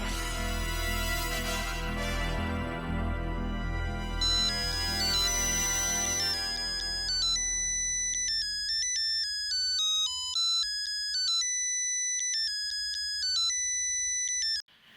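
A telephone ringtone plays a repeating electronic melody of bright beeping notes, steady and clear, and cuts off abruptly at the end.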